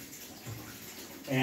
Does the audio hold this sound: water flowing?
yes